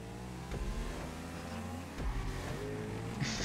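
A motorcycle engine hums and revs continuously in a GTA 5 Online street race, with steady engine drone and a few short rises in pitch, moderately loud and without speech.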